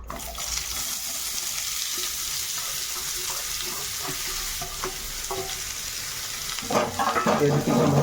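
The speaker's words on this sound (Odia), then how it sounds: "ମନା ଗୋଟେ ତେଜପତ୍ର ପକେଇ ଦେଇଛି ତାପରେ ପିଆଜ ପକେଇଦେବା" Onions and a bay leaf frying in hot oil in a home kitchen, a steady loud sizzle with occasional stirring clatter, growing busier and crackling toward the end.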